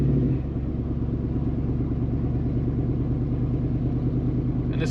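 A 2009 Jeep with a 6.4L 392 Hemi drives along with a steady low engine rumble from inside the cabin, the transmission shifting smoothly with little change in tone.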